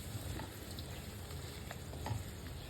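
Mutton liver fries in a pan as spices and dried fenugreek leaves are stirred in. A soft, steady sizzle runs throughout, with faint scraping strokes of the spoon at a low level.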